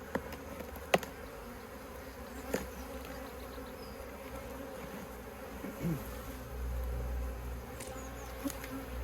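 Many honeybees hum in a dense, continuous buzz close by at an opened hive, with a few individual drones passing louder and some faint knocks.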